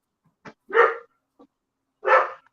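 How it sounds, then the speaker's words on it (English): A dog barks a few times in the distance inside a house, a couple of short loud woofs with softer yips in between and no one talking over them. "Oh, there's a dog."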